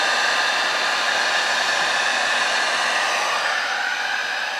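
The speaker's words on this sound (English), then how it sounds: "You gotta really hit the heat gun on it." A heat gun blows hot air onto an alcohol ink mug with a loud, continuous rushing roar that holds steady and close throughout.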